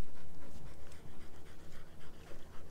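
Dogs pant hard after a run, with quick rhythmic breaths close by that pulse steadily and come with no talking.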